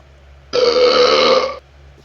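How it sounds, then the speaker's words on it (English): A single long burp from a Sugar Rush racer, loud and rough, lasting about a second against a quiet background. "your burp smells like barf candy"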